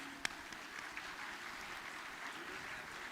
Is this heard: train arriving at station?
no